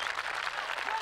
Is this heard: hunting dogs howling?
no